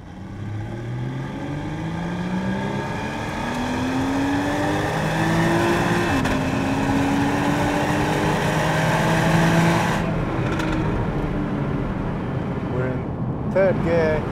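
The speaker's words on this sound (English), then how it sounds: "let's just listen to this engine first." A Porsche Cayman 981 S with PDK transmission revving hard on a test drive, engine pitch sweeping upward through gears in repeated climbs, heard from the cabin with a voice talking over it near the end.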